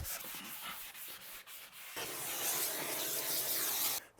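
Hand sanding of an epoxy coating on an old bathtub, rhythmic rubbing strokes at first, then a continuous harder scraping hiss, close and fairly faint.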